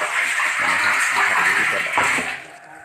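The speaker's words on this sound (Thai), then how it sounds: "ดูน้ำไหลน้ำไหลแล้วครับให้ดูน้ำไหลครับ นี่ครับน้ำไหล" Water gushes steadily from the 6-hun outlet pipe of a small 450-watt solar-powered borehole well pump, a loud, close rushing flow under a voice that tapers off at the end.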